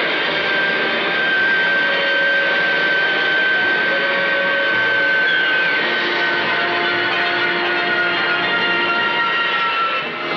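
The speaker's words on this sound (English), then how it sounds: "On the testbed here, a Bristol Sidley Olympus engine," Bristol Siddeley Olympus jet engine, the type built for Concorde, runs on a testbed with a loud, steady roar and whine, its sustained tones shifting slightly over ten seconds.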